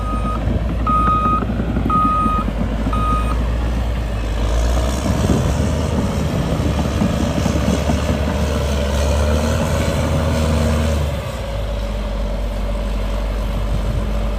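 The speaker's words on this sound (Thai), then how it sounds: "เสียงเครื่องยนต์นี่กระหึ่มดีครับ กระหึ่มใช้ได้เลย สำหรับเจ้า D6 R2 XL" A Caterpillar D6R2XL bulldozer's heavy diesel engine roars loudly and steadily nearby, with a few reversing beeps sounding at the start.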